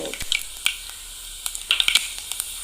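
Mustard seeds crackle in hot coconut oil while a lime and date pickle is being made, with a thin sizzle broken by sharp popping spurts and brief bright spatters close by.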